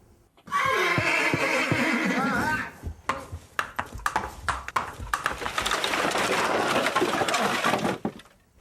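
Loud, close horse whinny rising and falling for a couple of seconds, then a stretch of thumps and clatter, followed by another long, harsh neighing cry.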